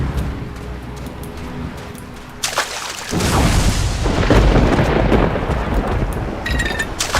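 A thunder and lightning storm in the video game Risen 3: a low rumble gives way to a loud, sharp crack, then sustained heavy thunder roars on with a rainy wash, close and dominant.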